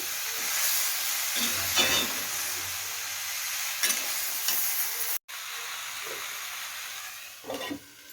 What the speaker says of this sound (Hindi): और अब मैं इसे अच्छे से मिक्स कर लूँगी।